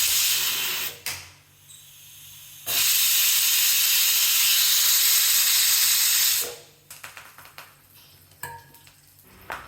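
A loud, sustained hiss of steam from a pressure cooker whistle cooking dal with tomatoes, bursting on briefly, then again for several seconds, with quieter clatter between.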